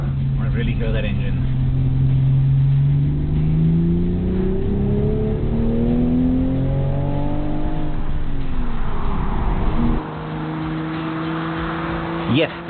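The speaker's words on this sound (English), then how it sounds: "I want to really hear that engine." A Toyota GR Supra sports coupe engine revs close by, its note rising steadily in pitch over several seconds before easing off and dropping to a lower, settled drone, with someone speaking over part of it.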